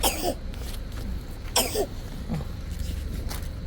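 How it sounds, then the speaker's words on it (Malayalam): Several short, harsh coughs from a child come in separate bursts with pauses between them, close to the listener, over a low background rumble. "ഇന്ന് ചുമ തുടങ്ങിയല്ലോ"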